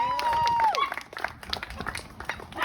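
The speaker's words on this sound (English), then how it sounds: "So give yourself a round of applause for that" Supporters at a primary election victory gathering for a Texas House district candidate applaud and cheer, a crowd of mixed claps and shouts with a whistle-like call near the start, voices mingled through the noise.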